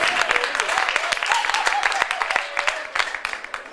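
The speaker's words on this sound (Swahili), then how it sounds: "Mumpigie makofi." Audience applause for the intercessors at a church anniversary gathering: dense, steady clapping from a crowd fills the room, with a voice carrying faintly beneath it.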